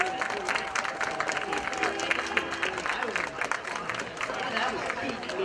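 A crowd at a Friday night high school football game applauds to honor veterans and current military personnel, a steady wash of clapping and murmur with voices mixed in.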